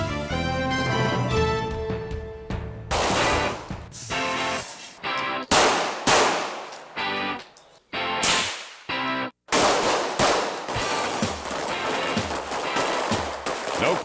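Rapid gunfire rings out at the LAPD Top Gun team shooting match on the historic Academy Ranges, with loud bursts and single shots cracking in quick irregular clusters and brief pauses between strings.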